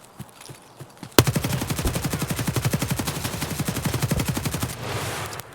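An RPK-16 light machine gun in Escape From Tarkov empties a full magazine in one long, rapid, evenly paced burst of loud close shots, with a quieter stretch of movement before it starts.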